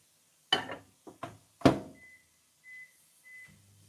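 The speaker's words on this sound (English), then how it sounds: "Okay, putting the peas into the microwave now." A microwave heating peas: a few sharp clunks as the door shuts, a short run of keypad beeps, then the low hum of the oven starting up, all close and with no talking.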